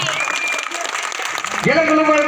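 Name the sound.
audience clapping at a village temple ceremony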